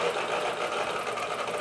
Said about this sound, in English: So this really did allow me to to slow down the machine enough to where I could actually do all of the sewing I needed